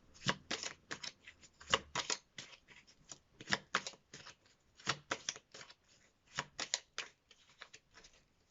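Tarot cards being shuffled and handled for a reading, with quick crisp riffling flicks in irregular bursts, close and fairly quiet.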